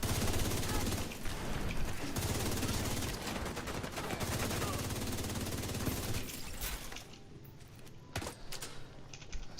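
Enemy gunfire in The Division 2, a steady dense stream of rapid shots under faint talk that thins out toward the end, leaving a few scattered bangs.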